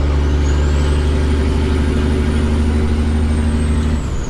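A heavy truck engine with no exhaust fitted idles loudly and steadily with a deep, raw rumble, a thin high whine running above it throughout.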